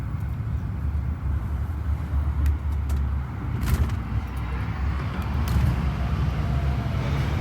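A FedEx truck passes on the road beside a moving vehicle, heard as a steady, fairly loud low road rumble with tyre and engine noise building slightly as it goes by.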